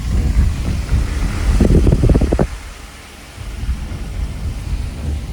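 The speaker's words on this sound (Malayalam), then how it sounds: "ഇപ്പോഴെന്താ നല്ല മഴയാണ്" Heavy rain falls on a misty hill road through tea plantations near Kuttikkanam. A dense, continuous hiss sits over a low rumbling wash, and a louder, rougher patch comes midway before it steadies again.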